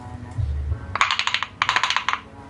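Black peppercorns are crushed in a hand grinder, two quick runs of sharp rhythmic clicking and cracking after a brief low thud, fairly close.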